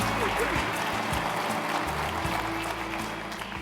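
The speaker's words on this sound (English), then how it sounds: "Can we have another round of applause" Applause from a conference audience fills the room, a dense steady clatter of clapping that fades slightly toward the end, with no talking over it.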